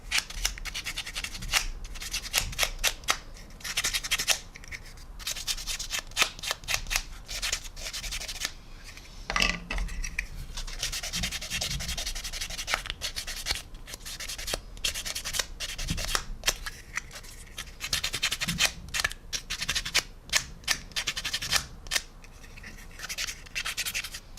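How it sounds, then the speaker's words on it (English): Steady, gritty rubbing of sandpaper against the pylons of a model military aircraft in short repeated strokes, close up and continuing throughout without talk. "just kind of sanding it off"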